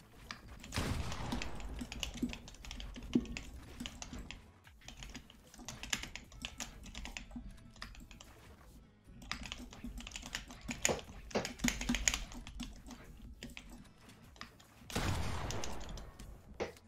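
Rapid, uneven clatter of a computer keyboard being typed on, close and steady with brief pauses, mostly alone with little talk.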